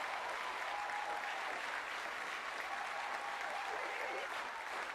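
Sustained applause from a church audience, dense and steady clapping filling the room at constant loudness, with a faint voice partly buried beneath it.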